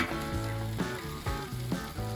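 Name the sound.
smoked pulled chuck roast sizzling while heating on griddle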